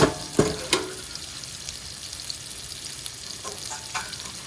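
Salmon fillet sears skin side down in a hot pan, giving a continuous close sizzle and crackle with a few sharper pops and clatters near the start, no voices present.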